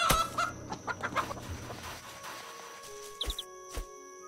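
Chickens clucking in a chicken pen in the farming video game Garden Paws, a run of soft clucks early on and then a few sharper calls over a faint steady background hum.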